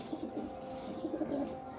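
Pigeons coo nearby in a series of soft, low, repeated calls, with a steady light background hum and no talking.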